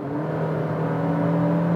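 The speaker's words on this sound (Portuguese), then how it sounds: "aí você percebe que o barulho do motor do carro invade com mais facilidade a cabine" Car engine drone from a Volkswagen Virtus Highline 2023 or Honda City Touring 2022, heard inside the cabin under acceleration, a steady low hum with rising harmonics that builds slightly in loudness, with no talking.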